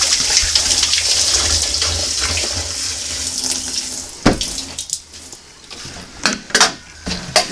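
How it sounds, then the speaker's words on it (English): Maple sap poured from buckets into a main barrel outdoors, a steady splashing gush of liquid that tapers off into a few scattered clunks and drips. "So I gather it up and I pour it into the main barrel."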